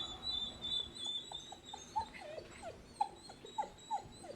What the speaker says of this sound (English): dog's whimpering there